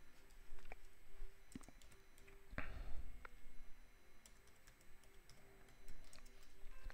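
Keys clatter on a computer keyboard as code is written, soft irregular clicks and taps in short bursts with pauses, close and quiet in a calm room.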